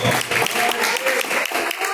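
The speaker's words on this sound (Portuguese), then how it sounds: "Pode aplaudir o nome do Senhor." A church congregation claps steadily in praise, a dense patter of applause that rises and falls slightly over two seconds.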